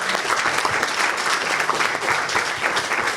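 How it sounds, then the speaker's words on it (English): Steady applause from a crowd at a jazz scholarship competition showcase, continuous and fairly loud throughout with no pauses. "Yes, please clap for all those people."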